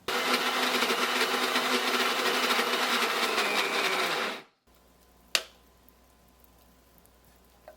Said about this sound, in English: I am going to grind it a little bit longer though, because it's not perfectly smooth